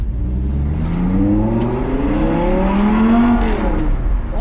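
An Audi R8 V10 Plus fitted with a new exhaust revs loudly and close by, its note rising and falling in several sweeping pulls that layer over a rumbling base, with no voices.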